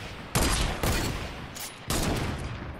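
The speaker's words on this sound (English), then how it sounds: "They're sniping at us." Sniper fire in the video game Fortnite rings out in three sharp, loud shots spaced roughly half a second to a second apart, each trailing into a noisy echo.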